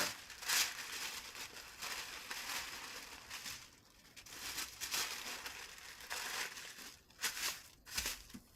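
Tissue paper crumpled and crinkled by hand while stuffing gaps in a homemade candy bouquet, giving close, steady rustling with a few sharper crackling bursts and no talk.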